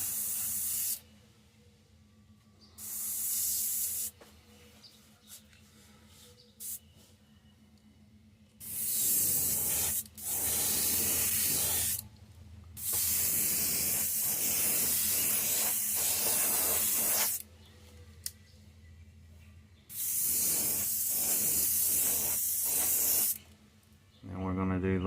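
Airbrush or spray gun applying another coat of paint to a painted Mayan cichlid fish, in several separate hissing bursts of a few seconds each with quieter gaps between, close up, and a voice talking in the pauses.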